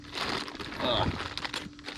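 A large plastic bag holding Kubota BH77 backhoe parts crinkles and rustles up close, a steady rough texture of handling noise with brief louder crackles.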